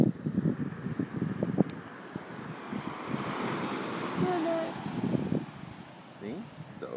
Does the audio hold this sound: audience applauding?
no